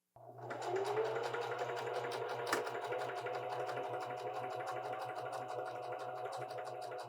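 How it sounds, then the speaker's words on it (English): A sewing machine with a buttonhole presser foot starts up and stitches a small buttonhole, a steady, fast, close mechanical whir running unbroken after a sudden start. "So I'm just going to make a little buttonhole."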